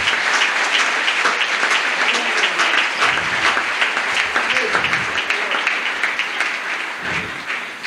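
A church congregation applauds steadily during a sermon, dense, continuous clapping filling the room at an even loudness, gradually tapering slightly toward the end.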